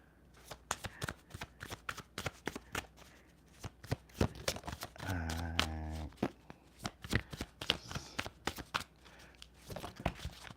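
Tarot cards are shuffled by hand in quick, crisp riffles and taps close by, with a longer whirring riffle in the middle and a burst of shuffling toward the end.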